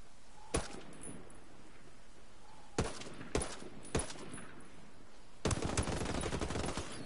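Squad gunfire in the video game Ghost Recon: a few sharp isolated shots spaced apart, then a rapid overlapping burst of several guns firing together near the end, loud and close.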